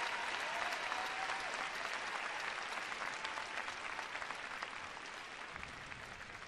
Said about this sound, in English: A partial standing ovation from some of the faithful here at the Sprint Center.